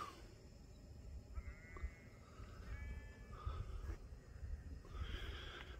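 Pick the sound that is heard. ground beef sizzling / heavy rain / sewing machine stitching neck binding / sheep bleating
sheep bleating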